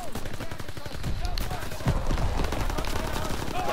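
Rapid rifle and machine-gun fire bursts through a Call of Duty WW2 battle, dense and continuous, loud and close, with shouted voices mixed into the chaos.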